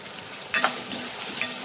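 Onion and tomato fry with misal masala, giving a soft sizzle under three quick scraping stirs of a spoon against the pan.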